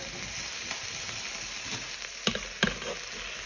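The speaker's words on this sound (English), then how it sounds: "So the short ribs have been in the Ninja Foodie just to get a bit of colour on them" Beef short ribs searing in a Ninja Foodi for colour before pressure cooking, giving a steady, close sizzle with a couple of sharp taps near the end and no voices.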